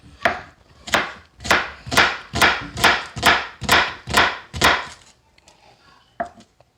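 A knife chops an onion on a board in about ten steady, evenly spaced strokes, close and crisp, followed by a pause and a couple of lighter taps.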